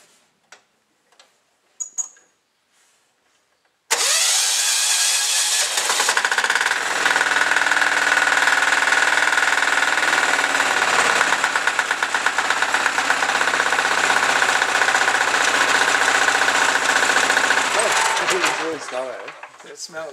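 Tractor engine running on washed sunflower oil, with a few taps and noises before it starts abruptly, then a loud, steady knocking diesel idle that runs for about fourteen seconds before cutting off.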